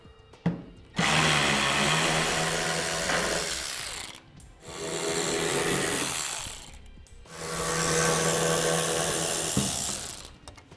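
Three long bursts of a power driver with a T15 bit back out fender liner screws on a 2015 Chevrolet Silverado. The whirring is loud and close, with brief pauses between screws.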